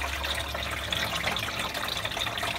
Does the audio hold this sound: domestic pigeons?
no